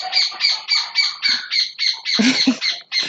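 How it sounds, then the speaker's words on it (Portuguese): A small bird chirps in a rapid, regular series of sharp, loud calls close by, about a dozen notes in steady rhythm with a rougher squawk-like burst near the end. "Tem um passarinho dando opinião aqui."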